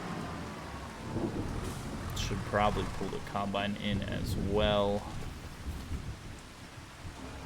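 Steady pouring rain in Farming Simulator 25, a broad hiss running the whole time with a low rumble beneath, while someone talks over it throughout.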